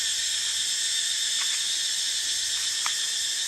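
Cicadas shrilling in a forest at a community forest meditation centre: a dense, continuous high-pitched buzzing drone that holds at a steady level throughout, with a few faint chirps breaking through near the middle and end.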